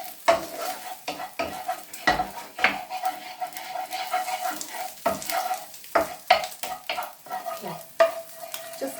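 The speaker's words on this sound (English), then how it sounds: "Stir it up like you're making scrambled eggs" Chicken curry stirred in a hot frying pan, busy clattering spoon-on-pan scrapes and knocks in an irregular rhythm over a constant sizzle, near and loud with no talking.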